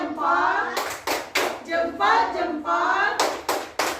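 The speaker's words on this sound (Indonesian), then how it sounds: "Kita kasih tepuk jempol untuk kelompok 1" A group of fifth-grade children claps in short bursts, several quick rounds of hand clapping in a classroom separated by brief pauses, with a lively children's chant in between.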